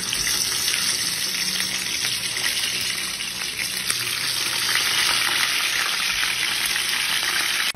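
Salted fish frying in hot oil for an escabeche dish, a loud, steady crackling sizzle that runs continuously and close up with no talk over it.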